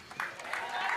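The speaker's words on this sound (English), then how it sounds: "And the crowd goes wild." A crowd at a fight night claps and cheers for a fighter's ring introduction, a brief burst of applause with a voice speaking over it.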